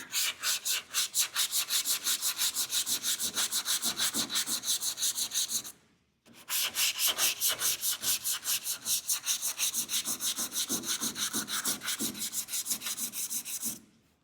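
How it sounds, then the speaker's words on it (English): A sanding block rubs back and forth across a door gap in rapid, even strokes, a steady rhythmic scraping that stops briefly partway through and then resumes at the same pace, close and clear with no talking. "Take a look at this when we block sand it out, what it looks like."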